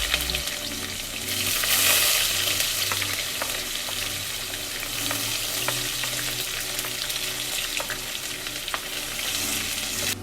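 Chopped onion sizzles and fries steadily in a pan alongside roasted dal for tomato rice, with a continuous close hiss and occasional stirring scrapes and no talking.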